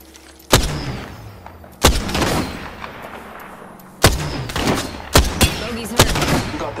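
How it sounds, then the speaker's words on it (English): Gunfire in the video game Apex Legends during a ranked match: five heavy, sharp shots or short bursts at uneven intervals, each with a booming tail that fades before the next. "Opening fire."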